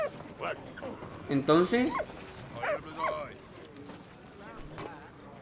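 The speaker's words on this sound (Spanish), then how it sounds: "Espérate que el perro sigue ahí en plan..." A dog in the video game Valiant Hearts barks and whimpers in short bursts over a game soundtrack, with a person talking now and then.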